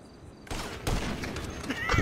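Gunfire in GTA V, a sudden burst of rapid shots that starts after a quiet moment and continues as a dense crackling fusillade, fairly loud and close.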